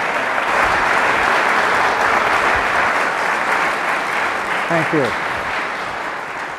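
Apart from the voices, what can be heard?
audience applause for speaker Joseph P. Farrell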